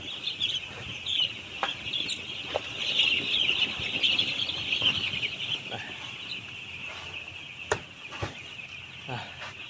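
Broiler chickens in an upper-floor poultry house make a steady high chirping din, with scattered sharper clucks and brief rustles, or wing flaps, across the whole stretch.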